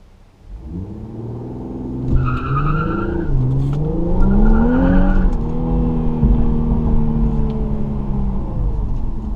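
A 2019 Infiniti Q50S with the 3.0T engine launches hard on launch control, its engine note climbing and rising in pitch over a loud, close roar, with a brief squeal-like tone partway through.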